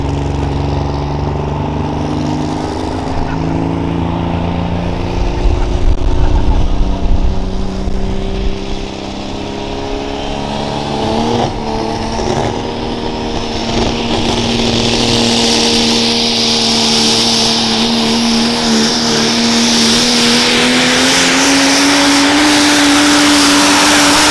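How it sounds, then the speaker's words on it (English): Super stock diesel pulling truck at The Pullers Championship, a pull in its 30th year, roars with a sustained loud engine drone that climbs steadily in pitch as it pulls, near and continuous with no talk. "Now, Dan, we have a truck coming out that's synonymous with super stock diesel pulling"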